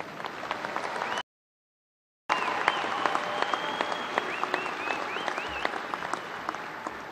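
Graduates at an Angelo State University fall commencement receive sustained applause from a large crowd, a dense steady clapping that cuts out briefly near the start and then resumes at full strength.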